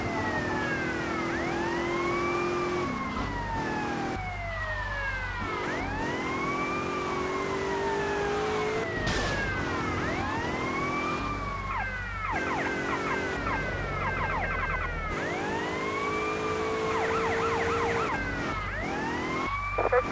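A police car siren in Grand Theft Auto Vice City wails loudly and continuously, cycling through rising and falling sweeps with faster yelping bursts, over a low engine rumble.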